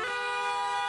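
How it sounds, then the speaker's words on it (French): Car horns sound together along the corniche in Tangier, held steady and loud in a dense overlapping blare with no pauses, as motorists gather in protest. "Concert de klaxons aux abords de la corniche tangéroise."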